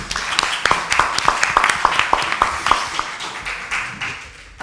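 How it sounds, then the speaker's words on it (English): A conference audience claps steadily in a sustained burst of applause that gradually fades, with faint voices underneath. "A big round of applause for"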